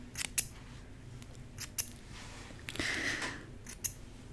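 Scissors snip very close in an intimate ASMR setting: a few crisp, separate cuts spaced out over a quiet background, with a softer rustle midway.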